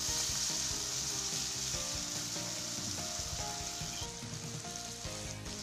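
Potato and cauliflower fry in a pan for spiced khichdi, a steady close sizzle with occasional stirring scrapes throughout, no voices.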